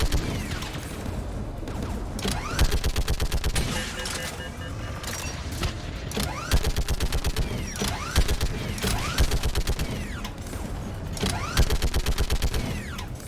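Gunfire in the video game Mass Effect 3, with dense, loud bursts of rapid shots and metallic mechanical clatter continuing throughout, repeated volleys overlapping with impacts and creaking sounds.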